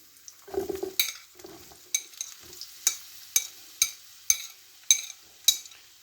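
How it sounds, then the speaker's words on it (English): Onions frying with garlic in a pan for vegetable egg fried rice: a low sizzle under a steady rhythm of about nine metal-on-pan scrapes as the food is stirred, close and clear. "So let's put the onions in."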